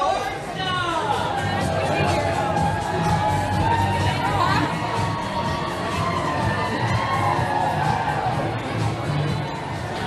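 Protest crowd at a rally over gender transition of minors in Burlington, a dense, steady roar of many voices shouting and cheering with some high, child-like yells, loud and continuous throughout.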